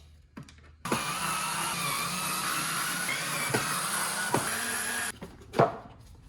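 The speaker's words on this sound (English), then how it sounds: "I'm going to take off this shroud right here using my upgraded lithium-ion screwdriver." Upgraded lithium-ion screwdriver backing screws out of a shop vac shroud, a steady high whirring motor run of about four seconds with a few faint clicks, then a short burst after a pause.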